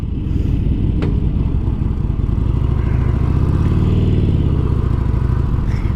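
A 2018 Harley-Davidson 48 1200 Sportster idles warmed up close by with a loud, steady, lumpy V-twin rumble that swells slightly in the middle.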